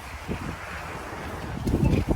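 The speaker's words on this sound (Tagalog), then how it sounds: "Mahangin kasi." Gusty wind buffets the microphone outdoors during a Canadian winter snowstorm at minus 12 degrees Celsius, a steady low rumble that swells into stronger, louder gusts near the end.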